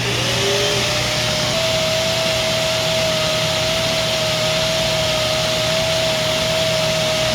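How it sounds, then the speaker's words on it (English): A Lindhaus Healthcare Pro Eco Force vacuum cleaner runs at the bag chamber during an airflow test, giving a loud, steady motor roar with a sustained whine that holds throughout. "Alright, so we'll take the airflow at the bag chamber here."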